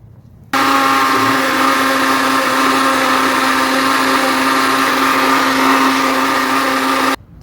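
An electric mixer grinder runs steadily for about seven seconds, grinding a fine spice paste for a camel meat curry. It gives a loud, even motor whine with a strong buzzing tone and no voices.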